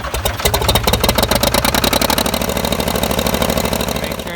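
An old Ford 4500 industrial tractor loader engine idles close by, a steady, loud, rhythmic diesel chug with even pulses throughout and no talking.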